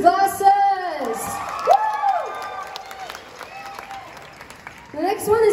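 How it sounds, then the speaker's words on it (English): Concert audience at an outdoor theatre cheers and applauds a performer, with whoops and yells rising and falling over steady clapping and voices shouting in the crowd. "Okay, big round of applause for Felix and Felix's glasses!"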